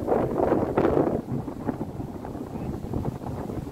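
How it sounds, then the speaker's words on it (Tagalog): Wind sweeping across Siruma Hill in Bicol, a low, steady rushing buffet against the microphone that swells and eases, close and constant with no other clear sounds. "Like yung tunog ng wind."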